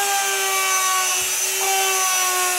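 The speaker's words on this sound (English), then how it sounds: "This is called burnishing." Leather edge being burnished by friction, giving a steady, continuous rubbing whir with an even tonal hum that holds for the whole stretch, close and fairly loud with no talking.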